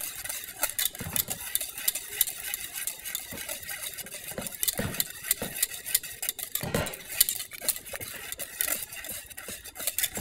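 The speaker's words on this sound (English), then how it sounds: "we're going to just keep stirring this until the butter melts" A utensil stirs butter sauce for cobbler in a pan, scraping and clinking against the metal in quick irregular strokes, with a few louder knocks, close and steady throughout with no talk.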